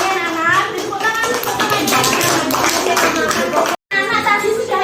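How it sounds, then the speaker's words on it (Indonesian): Children clap together in a classroom amid lively chatter and young voices, a busy close-up patter of hands with a brief dropout near the end. "Tepuk tangan,"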